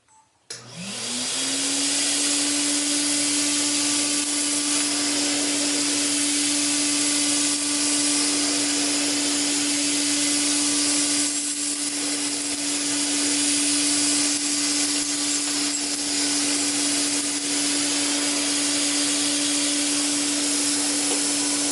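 A Hoover Constellation model 84 vacuum cleaner, running on carpet without a brush roller, switches on and settles into a steady, loud whining hum that holds close and unbroken to the end.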